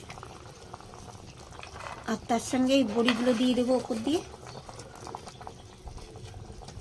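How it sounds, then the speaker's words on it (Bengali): Fish curry broth bubbling in a covered pot while small fried fish are added, a soft steady simmer under close speech from a cook throughout. "ঝোলটা বেশ সুন্দর টকবক করে ফুটছে"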